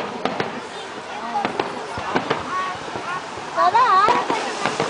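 A New Year's fireworks display sends repeated sharp pops and bangs from launching and bursting shells at a middle distance, crackling irregularly while people nearby chat and call out over the noise.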